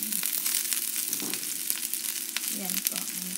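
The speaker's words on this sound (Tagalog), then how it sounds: "igigisan na rin natin yung, ano, yung cabbage" Cabbage sautéing in a hot pan for a mixed vegetable dish, giving a steady close sizzle and fry with a few stirring scrapes and clatters near the end, no talk.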